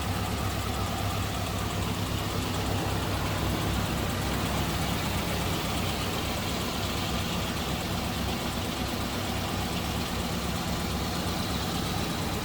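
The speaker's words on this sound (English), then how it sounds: "here's that flathead. 346 cubic inch engine." A 1941 Cadillac Fleetwood 60 Special's 346 cubic inch flathead V8 idling smoothly, a steady, even rumble heard alone and close by, with no talk.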